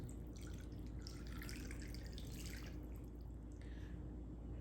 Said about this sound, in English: We're going to add enough water to cover the chicken